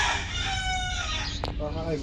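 A rooster crows loudly and close, its long drawn-out call filling the moment, with other chickens clucking faintly around it.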